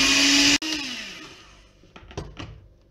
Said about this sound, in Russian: И все это потихонечку взбиваем до белой пены